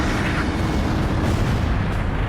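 A large explosion destroying an enemy facility in the combat flight game Ace Combat 5, a loud continuous rumbling roar with deep low-end boom sustained throughout, no voices.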